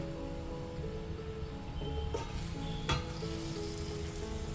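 Batter sizzles steadily on a hot tava under a lid, over a medium-to-low flame, for a breakfast dish. The hiss is continuous and close, with a couple of sharper crackles partway through and no voices.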